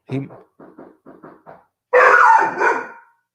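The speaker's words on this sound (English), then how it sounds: "My dog is about to bark." A pet dog barks indoors, a run of six quick close yips followed by two louder, longer barks, with no talking.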